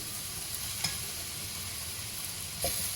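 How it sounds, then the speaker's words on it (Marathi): Hand-crushed boiled potatoes go into a frying masala, giving a soft continuous sizzle with two brief stirring scrapes, close but fairly quiet. "आता आपण बटाटे घालून घेऊया."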